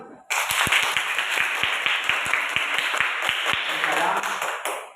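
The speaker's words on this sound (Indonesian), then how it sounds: "Kita beri tepuk tangan dulu untuk kelompok 1" A classroom group claps for fellow students after an energy-transformation experiment: a burst of steady applause with sharp individual claps, mixed with lively crowd noise and voices.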